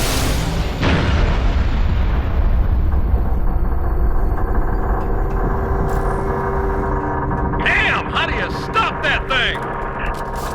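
Artillery fire in the Halo: Reach video game opens with heavy booming blasts, then settles into a continuous rumbling barrage with scattered sharper crackles toward the end.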